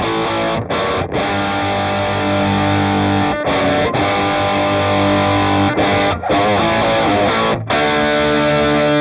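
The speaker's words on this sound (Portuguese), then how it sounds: "Vamos colocar aqui, por exemplo, um som com distorção dessa vez" A Mooer GTRS smart electric guitar played through a distortion drive rings out loud, sustained, saturated chords, cut by a few brief breaks between strums.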